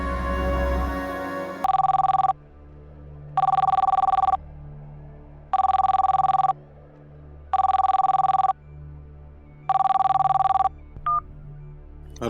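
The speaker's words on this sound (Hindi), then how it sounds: "रितेश, लगा फोन दुलारी देवी को।" A telephone ringing in a Hindi TV serial scene, five evenly spaced electronic ring bursts, each about a second long, loud and clear over a low background hum, with a short click at the end.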